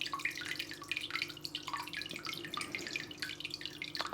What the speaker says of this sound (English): I'll just lift the lily pipe up 1 second so then you can kind of gauge the type of flow you get